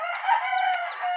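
A rooster crows in a single sustained, loud call held nearly a second, close by, with no talk over it; the setting is a charity ride in Calauan, Laguna.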